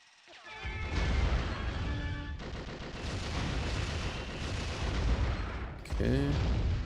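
Missiles and guns firing in the car-combat video game Twisted Metal, a loud, dense barrage of blasts and rapid shots running without a break, with a swooping effect near the end.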